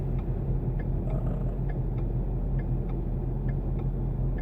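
A manual car idling in neutral with the clutch released, a steady low engine rumble with faint regular ticking, heard from inside the car without speech.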